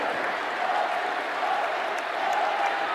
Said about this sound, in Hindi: आइए जोरदार तालियों से माननीय प्रधानमंत्री जी का अभिनंदन करें, स्वागत करें अपनी जोरदार तालियों से।